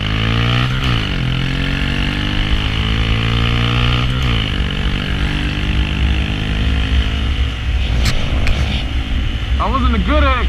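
Honda Grom motorcycle accelerating away from a green light, engine note rising through the gears with a shift around four seconds, steady and close throughout, with a brief voice near the end.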